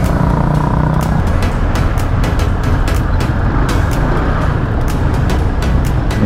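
Steady, loud roar of traffic and wind while riding a 2020 Honda ADV scooter through city traffic, a continuous close-up rumble with no talking.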